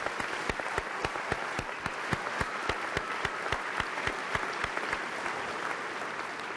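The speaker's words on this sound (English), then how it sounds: "Please join me in applause for the Arkansas Winds." Steady audience applause for the Arkansas Winds, a wind ensemble, at a college commencement ceremony; dense continuous clapping with distinct sharp claps standing out, heard alone without speech.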